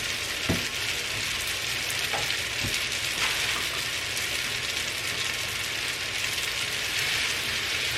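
A sauce of heavy whipping cream and cheeses cooks in a pan for fettuccine Alfredo, giving a steady, dense sizzle with a few faint stirring clicks close by and no talking.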